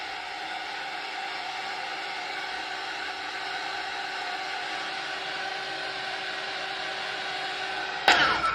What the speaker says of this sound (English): I will try and use a heat gun a little bit